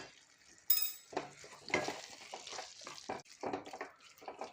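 A spoon stirs egg curry with tomato and green chilies in a pan, making close, irregular scraping and clinking strokes over a soft sizzle, with short pauses between movements.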